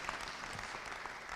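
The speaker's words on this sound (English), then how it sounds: "Let's give him a big round of applause." Audience applause at a boxing tournament press conference, a dense, steady patter of clapping heard from a moderate distance, faint overall and unbroken for its short length.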